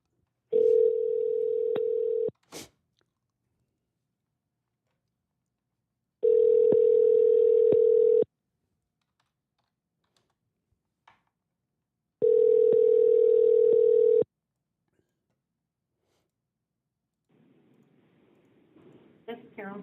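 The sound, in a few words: telephone ringing while calling a number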